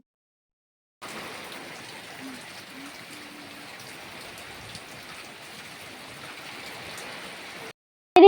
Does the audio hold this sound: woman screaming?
no